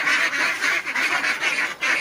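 Month-old ducklings on a farm keep up a dense, continuous chorus of rapid quacking, loud and close, with short pauses in the rhythm.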